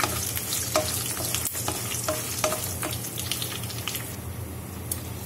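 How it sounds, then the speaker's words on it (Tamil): Curry leaves frying in oil in a pan for a Tamil-style chicken roast, a steady crackling sizzle with sharp pops and occasional stirring clinks, close and alone. "நல்லா ஃப்ரை ஆகட்டும்."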